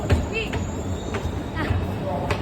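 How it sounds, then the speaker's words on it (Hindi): A Delhi Metro train pulls into a station with a steady low rumble and faint wheel squeal, under surrounding crowd babble and nearby voices. "metro I"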